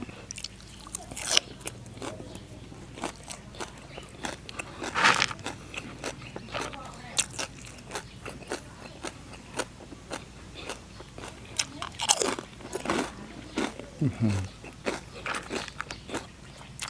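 Crunchy fried chicken skin is bitten and chewed up close, with irregular crisp crackles and crunches throughout. Brief murmured speech and occasional handling noises sit between the bites.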